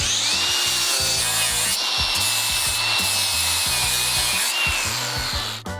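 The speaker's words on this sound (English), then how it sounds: "Now we're just gonna hit it with the grinder and kind of clean it up." An angle grinder cleans up a freshly welded body-panel edge on a BMW 330i race car, giving a steady, close, continuous grinding whine with rough scraping texture that holds for several seconds before easing off at the end.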